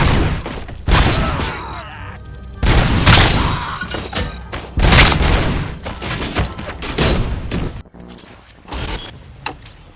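Bursts of gunfire as jets open fire, several loud, harsh volleys separated by short gaps, with clattering and shattering impacts between them.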